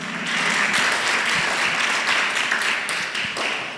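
A church congregation claps together as an offering of praise during a Spanish-language service, steady, dense applause filling the room at moderate volume for a few seconds.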